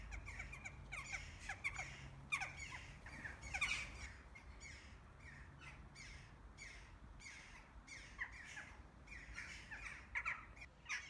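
Rooks and crows calling from nesting holes in the stone walls of the Rock of Cashel, repeated harsh caws and squawks overlapping at middle distance over a low outdoor rumble.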